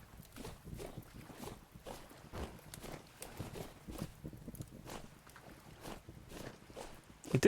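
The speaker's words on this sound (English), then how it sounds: "is it just me, or does it sound weird when I'm walking on this dirt now?" Footsteps on dirt in the game Vintage Story, a steady run of soft, muffled thuds at walking pace, close and fairly quiet over a faint windy hiss.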